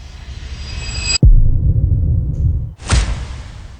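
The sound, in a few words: cinematic sound effects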